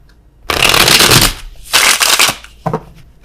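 Tarot cards being shuffled by hand in three bursts, a long riffle of rapid papery flutters, a second shorter run, then a brief final flick, close and fairly loud with no talking.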